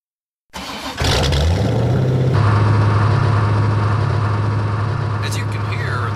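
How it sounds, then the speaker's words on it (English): A drill rig engine starts up and runs loudly at a steady roar during pipe tripping on a drilling site, continuous and close, with a brief higher whine near the end. "As you can hear, the drill is very loud."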